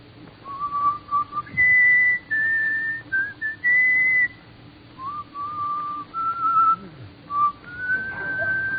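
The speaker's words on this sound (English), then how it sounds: "Let me hear your whistle coming through the rye." A man whistles the tune Comin' Through the Rye solo, a clear, close melody of sustained notes and short phrases with brief pauses between them, over faint background noise.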